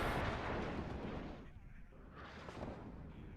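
Artillery barrages in a WARNO 2v2 tournament match, continuous rumbling booms and blasts layered over each other, dense and loud throughout with a slight dip midway, talk faintly underneath.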